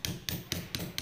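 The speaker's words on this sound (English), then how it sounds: "when you're chiseling, you want to look at where your chisel is pointed" A hammer strikes a steel chisel carving stone in a steady rhythm of five sharp, ringing blows about a quarter second apart, each followed by a brief gritty rasp, quiet and close with no talking.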